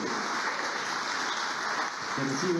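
An audience at a Peruvian government environmental awards ceremony applauds an honorable mention winner, a dense, even burst of clapping lasting a few seconds with no talk over it.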